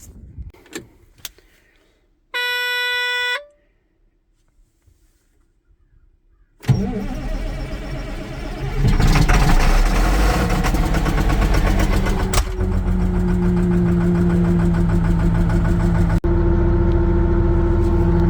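A Cat D6 dozer with a 6-way blade starting in freezing weather: a few clicks and a brief electric whine, then the diesel engine catches and settles into a loud, steady idle that continues to the end.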